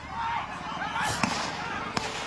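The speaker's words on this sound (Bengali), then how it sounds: "ফায়াৰিং কৰি আছে ফাঁকা গুলি মাৰি আছে" Two sharp bangs of police gunfire crack out about a second apart over a loud, continuous din of a shouting crowd, in a reserved forest area of Goalpara, Assam.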